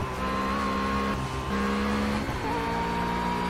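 McLaren race car engine in the racing game Project Cars, a loud sustained high-revving whine held near redline with tonal shifts as revs dip and climb again, continuous and close.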